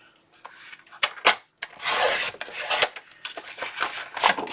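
Paper sheets are trimmed to 6 inches on a craft paper cutter, making a run of scraping, rubbing slides and sharp clicks of the blade and sheets being handled, close and fairly loud, with no talking.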